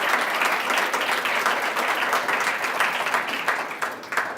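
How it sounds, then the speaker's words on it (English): An audience applauds a speaker at a MasterMind event, with steady, dense clapping that stays loud throughout and thins slightly near the end, with no talk over it. "everybody give a big round of applause"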